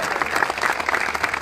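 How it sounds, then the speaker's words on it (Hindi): An audience at a political rally in Uttar Pradesh claps steadily, a dense wash of applause that runs throughout the moment without letting up. "बेटा ताली बजाओ"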